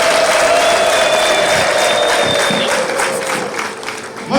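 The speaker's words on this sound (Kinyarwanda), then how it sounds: "Impundu nyinshi ku bashyitsi bacu." A crowd at a Rwandan Abarangi annual day celebration cheers the guests with sustained applause and a high, wavering ululation cutting through, the clapping thinning slightly toward the end.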